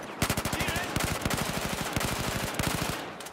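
Rapid automatic gunfire in Battlefield 4 multiplayer, a support-class weapon firing long sustained bursts of evenly spaced loud shots with brief pauses between strings.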